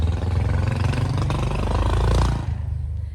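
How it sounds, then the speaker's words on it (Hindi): A loud motorbike roars past nearby, its engine note rising to a peak around two seconds in and then quickly fading away as it moves off. "तो पता नहीं ऐसी वाली बाइक्स चला के क्या मज़ा आता है जिसमें इतनी आवाज़ें आती हैं।"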